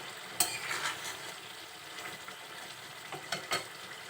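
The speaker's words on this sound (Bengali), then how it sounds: "আবার ঢাকনা উঁচু করে একটু নেড়ে চেড়ে দিলাম" A spatula stirs fish curry with ridge gourd in a pan, raising a soft continuous sizzle broken by a few brisk scraping strokes close by, with no voices.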